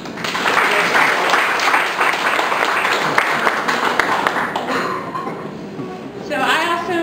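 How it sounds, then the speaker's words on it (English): An audience at a community safe-home event breaks into loud, sustained clapping that tapers off, then a voice starts speaking over the last claps. "I want to give you all a round of applause"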